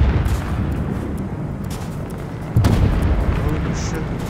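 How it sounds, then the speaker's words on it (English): A tank fires in the video game Fortnite: a heavy boom bursts in partway through, over a rumbling battle-like background. "Sounds like a tank."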